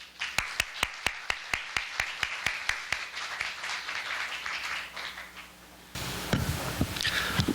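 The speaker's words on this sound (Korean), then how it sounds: "큰 박수로 환영해 주십시오." A crowd at a Korean political science forum claps to welcome a speaker. The claps start sparse and rhythmic, thicken into steady applause, and swell louder near the end.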